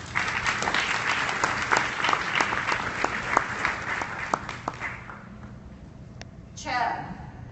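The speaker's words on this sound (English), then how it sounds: "Please give a round of applause." An audience at a social media marketing keynote conference applauds with dense, close clapping that fades out after about five seconds, followed by a brief voice.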